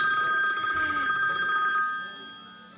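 A cellphone rings loudly and steadily in a house, a bright electronic tone repeating for a few seconds with faint background activity underneath.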